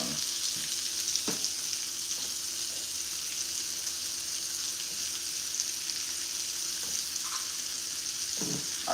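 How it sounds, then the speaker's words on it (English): Butter melting and sizzling in a hot pan while cooking mashed potatoes and salmon, a steady, bright hiss throughout with a few faint clinks and stirring noises. "I'm about to add some butter in this."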